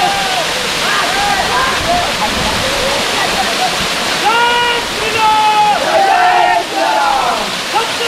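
Mahadev waterfall in the Satpuda hills pours with a loud, steady roar of falling water, while voices call and sing over it, partly imitating sounds in long wavering tones.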